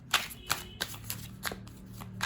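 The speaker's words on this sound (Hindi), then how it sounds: "पहले मैं अच्छे से शफल कर लेती हूँ कार्ड्स को।" Tarot cards being shuffled by hand make a rapid series of crisp, papery riffles, about eight brief bursts in quick succession, close and fairly quiet with no talking.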